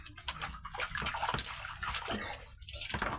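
Bowls and dishes get washed by hand, with running water splashing and sloshing up close while the dishes are rinsed.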